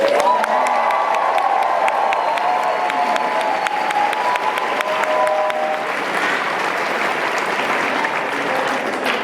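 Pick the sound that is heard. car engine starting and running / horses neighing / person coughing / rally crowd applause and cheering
rally crowd applause and cheering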